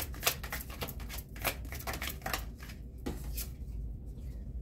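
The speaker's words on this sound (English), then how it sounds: "Let's get a card for adjudication." Playing cards are riffled and shuffled through a deck in a quick run of crisp, papery bursts, then one card is drawn and snapped out near the end, close and fairly loud with no talking.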